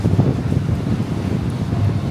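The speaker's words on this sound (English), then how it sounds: "I don't know if you can hear me because it's windy." Strong wind buffets a microphone outdoors by the harbour in Sydney at Christmas, producing a loud, constant low rumble throughout with no clear talk.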